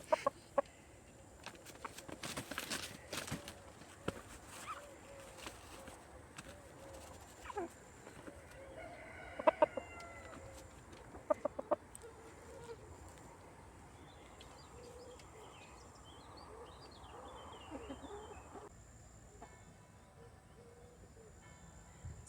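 Scattered rooster clucks and short calls over a steady outdoor hum, with a few sharp clatters and faint bird chirps around them.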